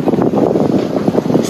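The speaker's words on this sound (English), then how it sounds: "Sailing down the side of these beautiful islands." Sailboat running with full sails in a breeze along an island coast in Croatia, heard as a steady rush of wind and water with microphone buffeting, no talk.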